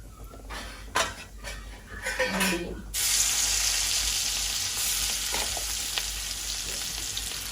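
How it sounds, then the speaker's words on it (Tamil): Cinnamon bark drops into hot oil in a pan and bursts into loud, dense frying. A few sharp clatters of utensil and pan come first, then a continuous crackling hiss. "இப்போ எண்ணெய் விட்டேன் அதுக்கு கொஞ்சம் கருவாப்பட்டை"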